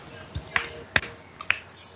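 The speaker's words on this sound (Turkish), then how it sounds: "Böyle alkışlıyoruz" A few sharp, separate hand claps or snaps from a Turkish WWE Raw review show, about four crisp hits spaced irregularly over a quiet background, close and distinct.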